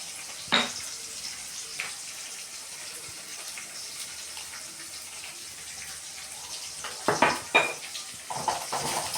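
Onions sautéing with salt in a pan for Tamil fish curry give a steady low sizzle, with a few sharp scraping stir strokes near the start and clustered toward the end.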